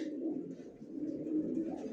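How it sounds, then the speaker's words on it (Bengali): Young racing pigeons, healthy and vaccinated, coo in soft, low, continuous rolling calls close by, several birds overlapping into a steady murmur with no talking. "অরিজিনাল রেসার জনসনের প্রতিটা কবুতরে সুস্থ সবল ভ্যাকসিন করা"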